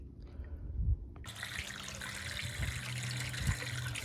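Water pours into a DIY garden pond, first a soft trickle and then a sudden stronger gushing flow that continues steadily, close and moderately quiet with faint low thumps beneath.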